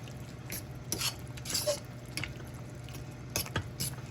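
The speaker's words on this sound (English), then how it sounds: "So let me mix this all in real good and get it to cook." A utensil stirs spinach dip ingredients in a cooking pan, producing wet squelching swishes and light scraping clinks in irregular bursts, fairly quiet and close.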